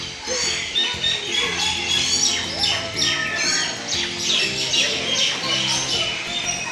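Repeated harsh, chattering calls of a white-vented myna in quick bursts, fairly close and steady over a low murmur of background noise.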